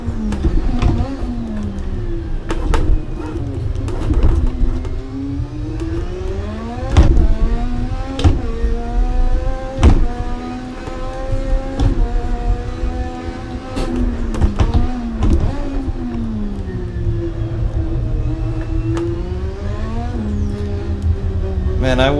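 Lotus 98T race car in Assetto Corsa, its engine loud and close, revving up and down repeatedly with gear changes and spiky bursts of wheel spin as the throttle is feathered, while a voice talks throughout.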